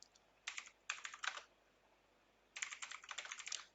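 Quick bursts of typing on a computer keyboard, three short runs and then a longer stretch after a pause, crisp and close over a quiet background.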